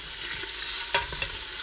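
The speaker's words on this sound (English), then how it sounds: "To kind of slowly sizzle it rather than go like too hard, too fast." Chicken sizzles in a hot pan at a gentle, lower temperature, a steady close frying hiss with a couple of brief stirring clicks and no talk, while an Alfredo bake is being prepared.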